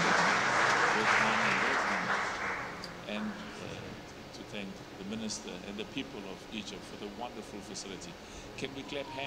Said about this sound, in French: Applaudissons-les donc.